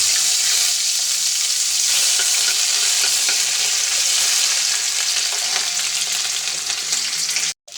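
Ginger fries loudly in a pan for khichuri, a dense, bright, continuous sizzle close by that holds steady before a brief dropout at the very end.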